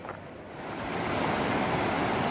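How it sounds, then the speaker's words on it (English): A river runs beside a campground in spring snow, a steady broadband rush of flowing water that swells slightly and holds even, close and alone without voices. "So the campground's right here along the river, which is always a wonderful sound."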